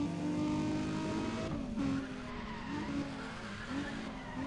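A race car in Need For Speed ProStreet skids with a sustained tire squeal that wavers and bends in pitch over a constant engine drone, loud and continuous with no talking.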